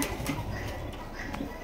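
A pair of silver Lahori pigeons, large birds kept for sale at a market, cooing softly nearby amid light background noise.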